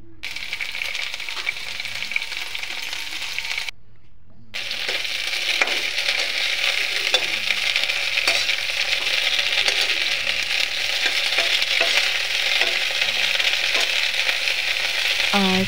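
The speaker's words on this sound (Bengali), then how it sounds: "ফুলকপিটাকে আমি ভালো করে তুলে কড়াইয়ে তেলের মধ্যে ভালো করে ভেজে নেব" Cauliflower fries in oil in a wok, giving a continuous close sizzle with scattered crackles and occasional scraping stirs, broken by a brief gap early on.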